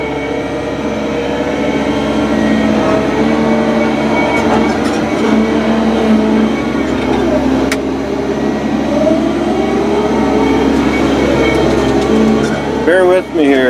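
A Barko 612 forwarder engine rumbles loudly and steadily while driving through the bush, with rattling machinery throughout and a voice talking over the drone.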